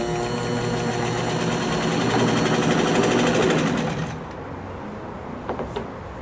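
A Kenmore 59 sewing machine stitches at a steady mechanical whir with fine rhythmic needle ticking, loud and close, stopping abruptly near the end and leaving faint handling clicks.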